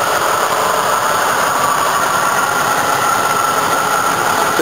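A 1979 Chevy crew cab truck's 350 cubic inch V8 idles steadily with a low rumble and a buzzing rattle from the exhaust, close and continuous, no voices.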